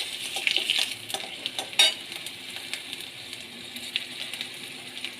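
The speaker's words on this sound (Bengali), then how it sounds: "ওই তেলেই দিয়ে দেব কাঁচা লঙ্কা, গোটা জিরে, পাঁচ ফোড়ন" Green chilies, whole cumin and five-spice seeds sizzle in hot oil left from frying fish, a steady close crackle with a few sharp stirring scrapes of a spoon in the pan.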